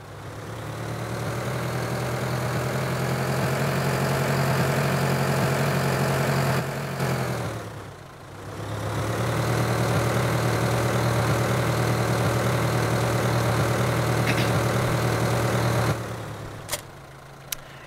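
A tractor engine idles in Farming Simulator 2013, a steady low droning hum that dips briefly partway through and then resumes, with no talking.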